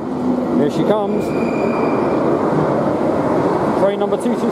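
A London Underground Bakerloo Line 1972 Stock train arrives at a platform, a steady loud rumble with brief brake squeals and hissing near the start and again toward the end.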